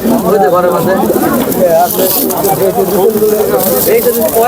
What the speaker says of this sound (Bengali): গোলা কবুতর? হ্যাঁ গোলা কবুতর।